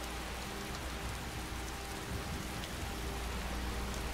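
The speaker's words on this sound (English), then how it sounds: "Oh, it's still raining, and it's just disgusting." Rain falls steadily in the video game Skyrim, a dense continuous hiss of drops that holds at an even level with no voices.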